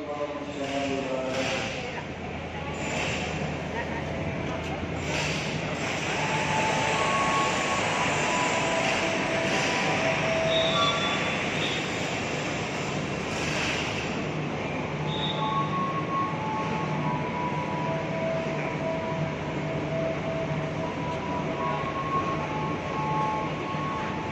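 A KRL commuter train rolls steadily into Solo Balapan station on track 4 with a continuous rumbling drone and faint squealing, while people talk in the background.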